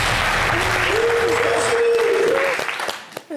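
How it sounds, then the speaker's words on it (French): Studio audience applause, loud dense clapping heard up close that fades away near the end. "Applaudissements."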